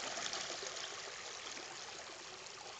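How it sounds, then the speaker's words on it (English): Creek water flowing steadily in a continuous, fairly loud rushing wash, with no voices. "Just down at the creek after work."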